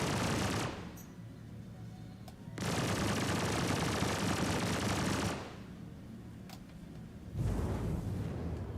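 Bursts of rapid automatic fire from an Attrition-5 ship weapon in Star Citizen, three long sustained volleys of rattling shots separated by brief lulls, loud and close.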